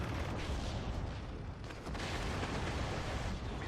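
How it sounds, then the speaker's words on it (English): Mortar rounds fire and strike in the Steel Division 2 wartime strategy game, producing a steady wall of distant booms and rumbling explosions that blend into a continuous, heavy battlefield roar. "Just need one of these mortar rounds to hit the Zob though."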